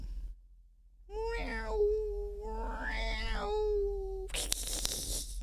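A voice mimics a cat's meow with drawn-out vocal tones, then a burst of broadband noise at the end.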